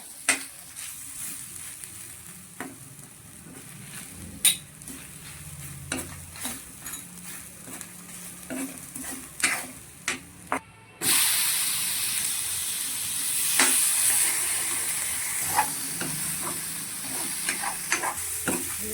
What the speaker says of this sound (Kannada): ಇದನ್ನು ಸ್ವಲ್ಪ ನಾನು ಎಣ್ಣೆಯಲ್ಲಿ ಫ್ರೈ ಮಾಡ್ಕೊಳ್ತಿದ್ದೇನೆ